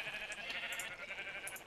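Minecraft sheep held in a wool-shearing machine bleat in short overlapping cries, faint and layered, with nobody speaking.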